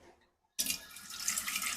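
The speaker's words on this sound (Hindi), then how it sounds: "इसमें हम पानी डाल लेंगे।" Water poured from a tap into a hot, smoking pan to cool it after cooking, a sudden loud rushing splash after a brief silence, continuing steadily and close.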